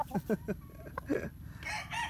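Chickens cluck in quick bursts, followed by a brief crowing call from a rooster among a flock of gamefowl, close by and moderately loud.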